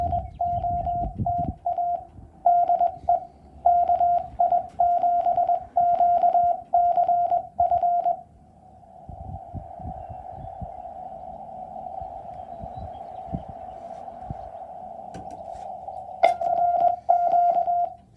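Morse code CW tones from an amateur radio station at an outdoor parks activation: a steady pitched tone keyed in rapid dots and dashes, interrupted by a long continuous stretch, with faint clicks and handling noise underneath.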